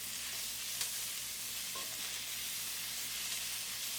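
Chicken pieces for fajitas frying in a hot pan, giving a steady, fairly faint sizzle that runs unbroken throughout with a light stir or clink now and then and no voices.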